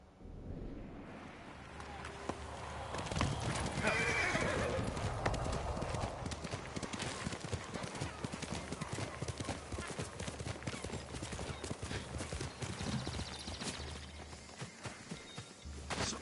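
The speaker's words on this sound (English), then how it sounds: "Good horse, Kage." Steady clip-clop of horse hooves throughout, with a horse whinnying partway in, over a continuous background mix in the video game Samurai Sim 2025; a voice speaks briefly near the start.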